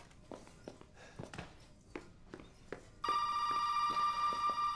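A telephone starts ringing suddenly in Resident Evil 7 Biohazard, a loud, steady electronic bell tone that follows several soft footsteps on a quiet floor.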